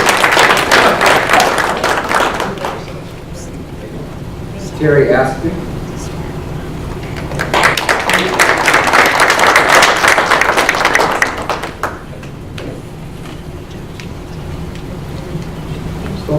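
Audience members at a school board of education meeting clap in two short bursts of scattered applause in a meeting room, with a speaker talking over and between the clapping.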